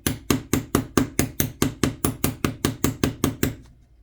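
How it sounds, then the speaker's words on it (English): A little hammer banging sharply about fifteen times in a steady, even rhythm, each close, loud knock ringing briefly before the next, then fading out. "Where's the little hammer that they gave me? Oh, it's right here. Okay, I'm gonna bang it."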